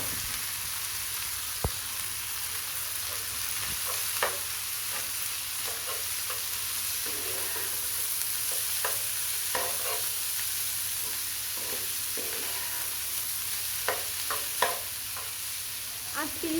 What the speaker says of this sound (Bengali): আলু ভাজা ভাজা হয়ে গেছে, এখন আমি করলাটাগুলো দিয়ে দিব।